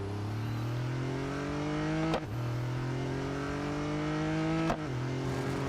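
Race car engine in the Real Racing 3 video game revs steadily upward in a loud, continuous whine, broken by two quick gear shifts that drop the pitch before it climbs again.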